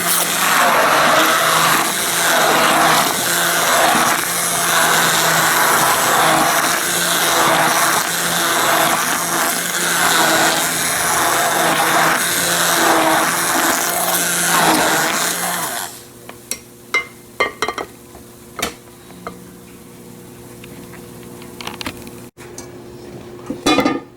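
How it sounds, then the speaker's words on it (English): An immersion blender froths an egg and milk mixture with a loud, steady motor whir for about sixteen seconds, then cuts off, leaving a few light clinks and taps. "I have an immersion blender."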